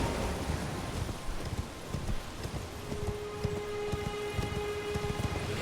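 Horse hooves clip-clop in Elden Ring, a continuous run of dense, uneven footfalls under a steady rainy hiss, with a faint tonal hum joining partway through.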